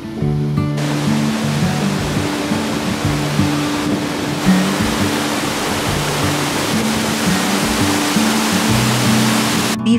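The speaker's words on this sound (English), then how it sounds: "We found this majestic waterfall just a few kilometers from our Airbnb" A majestic waterfall in the Norwegian countryside roars as a loud, unbroken wall of rushing water, with a low tonal hum running beneath the constant spray.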